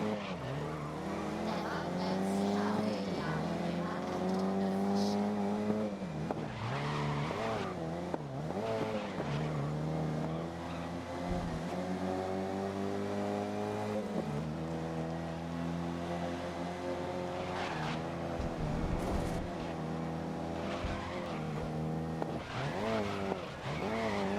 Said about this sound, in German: Los, Go-Kart, gib Gas. Oh, bisschen zu stark gebremst.